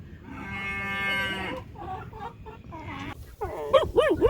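A silkie hen clucks up close in a farmyard, with short warbling calls near the end after a long, drawn-out animal call and some scattered rustling.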